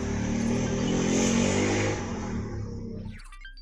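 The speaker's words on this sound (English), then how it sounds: "There's some motorbikes going past." Motorbikes passing outside, a broad loud engine roar that swells, then fades away over a few seconds with no talk.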